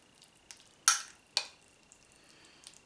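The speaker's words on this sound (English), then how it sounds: "I'm going to just give that a nice stir in." A spoon stirs cheese into hot ham and split pea soup, giving a few short, fairly faint scraping clinks spread over a couple of seconds with no talk.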